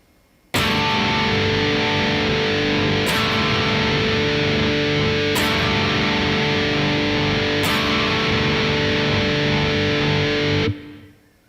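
Heavily distorted electric guitar rings out a black metal chord voicing of root, fifth and added major second, struck four times in succession and left to sustain loudly, alone with no talking, before cutting off.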